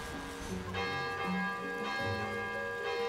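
Bell ringing in Zelda: Tears of the Kingdom, repeated resonant metallic chimes with a lingering ring, heard amid game ambience and light background music.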